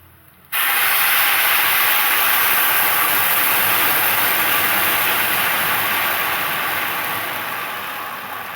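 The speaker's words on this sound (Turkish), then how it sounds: "Ben şimdi suyumu dökeceğim." Water pours into a hot pan of pasta being cooked without boiling first, bursting into a loud, sustained hiss and sizzle that slowly fades over several seconds.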